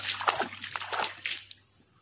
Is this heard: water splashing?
yes